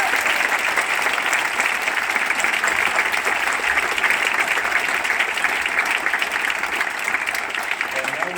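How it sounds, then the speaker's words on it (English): A large audience at a national honor band festival gives the musicians a big round of applause, a dense, steady roar of clapping that holds evenly for the whole stretch. "So for all of our musicians, one last big round of applause."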